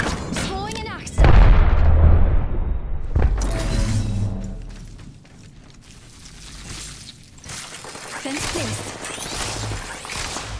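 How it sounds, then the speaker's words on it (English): A grenade explodes in Apex Legends with a loud, close boom that rings out and tails off, followed by scattered gunfire and impact bursts from the firefight. Voiced game callouts come and go over the action. "Tossing a grenade"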